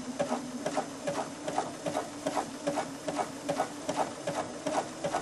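A sewing machine stitches floss onto fabric for couching, producing a rapid, even rhythmic clatter of needle strokes, close and steady throughout without talk.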